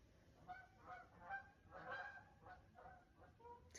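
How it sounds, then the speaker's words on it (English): A flock of geese honks in a series of faint, distant calls that rise and fall in uneven bursts, several birds overlapping at times. "Ton of geese."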